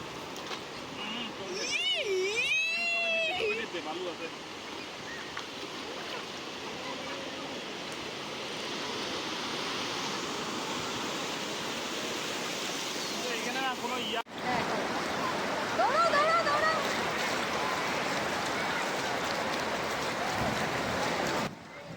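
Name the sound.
sea waves at Digha beach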